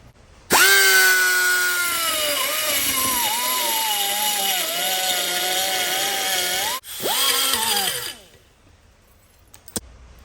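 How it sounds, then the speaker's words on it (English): A die grinder spins up abruptly and whines loudly while deburring drilled holes on a custom Harley motorcycle part, its pitch dipping under load, cutting out briefly, then revving again before winding down, followed by a small clink. "I'll go with my die grinder, open this up, I'll deburr it, smooth these edges out a little bit"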